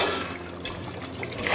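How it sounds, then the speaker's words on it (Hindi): Yogurt poured into sizzling masala for beef haleem, a close, continuous wet trickle and hiss with a brief louder surge near the end, no talk. "अब मैं इसके अंदर दही डाल दूँगी।"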